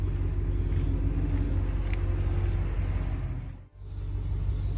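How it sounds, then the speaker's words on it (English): A roll-off dumpster truck's engine rumbles steadily and loudly as the truck pulls forward, a deep, continuous drone that briefly dips near the end before resuming. No voices. "Okay, we pulled the truck forward"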